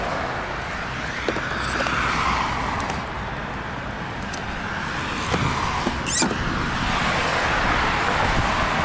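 Road traffic passes a gas station on the Ring Road in Bulgaria, a steady wash of car and tyre noise with a few louder vehicles sweeping by.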